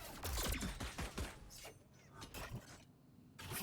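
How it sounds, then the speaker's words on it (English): A KAY/O flashbang pops in Valorant on the Breeze map, a sharp burst amid a busy spray of clattering impacts and mechanical noise, with shorter bursts following and a brief lull before another hit near the end. "Flashbang."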